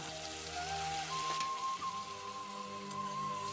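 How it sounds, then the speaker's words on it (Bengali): A little water poured into a hot wok of frying onions, chillies and garlic gives a steady, rain-like hiss and crackle at moderate volume. "এখন পানি দিয়ে দিব অল্প।"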